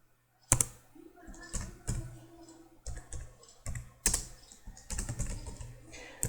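Keys clatter in irregular bursts as Java code is typed on a computer keyboard, close and fairly loud with short pauses between runs, and a faint hum underneath.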